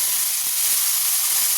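Black cumin and spice paste with tomato and green chilli hit hot oil for a fish curry, setting off a loud, steady hiss and sizzle that runs without a break.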